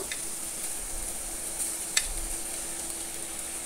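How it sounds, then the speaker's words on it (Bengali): Boiled pasta tipped into a pan of spicy sauce made with soy sauce, tomato sauce and oregano, then stirred: a steady close sizzle with a brief scrape or knock of the spoon midway. "এবং সেদ্ধ করে রাখা পাস্তাগুলো আমি ঢেলে দেব।"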